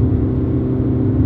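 A car engine runs at full throttle while the vehicle struggles to reach 60 mph, a loud, steady droning roar heard from inside the cabin with no talk.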